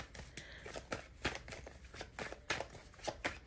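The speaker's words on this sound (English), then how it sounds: "Spirit's guiding me to continue to shuffle" Tarot cards are shuffled by hand, a close, quiet series of crisp riffling and slapping bursts repeating in an irregular rhythm with no other sounds.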